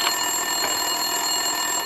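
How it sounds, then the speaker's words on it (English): An office desk phone ringing in the Max Payne 2 video game, a steady electronic trill held continuously at moderate loudness, with faint background activity and no speech. "Winterson's phone was ringing."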